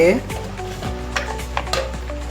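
A spoon stirs and clinks against a metal pan while spices are mixed for litti chokha, a few scraping taps and soft clatters over a faint sizzle, with a voice speaking at the start.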